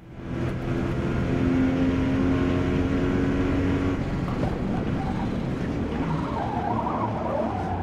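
A Porsche 911 in the Forza Motorsport racing game sliding through a corner, its engine droning steadily while a sustained tyre squeal rises and then gives way to rough rumbling, loud and continuous throughout.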